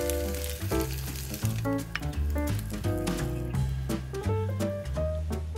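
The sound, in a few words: chili sizzling as it is fried in oil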